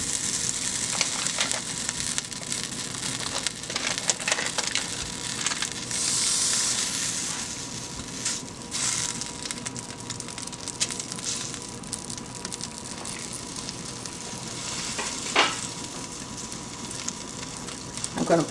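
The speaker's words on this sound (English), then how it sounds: "I'm going to put a stick of butter." A stick of butter sizzles and crackles in a hot frying pan, a steady bright hiss with small pops, close and continuous without talk.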